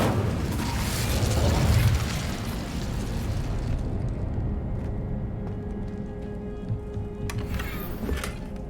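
An Incendio fire spell erupts in Hogwarts Legacy with a loud, crackling, explosive burst of flame. It dies away into a quieter stretch with scattered mechanical clicks and a few sharp pops.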